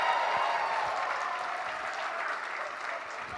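An audience applauds to vote for "woman's world" at an emceed event, a dense, steady wash of many hands clapping that holds for a few seconds and eases slightly toward the end.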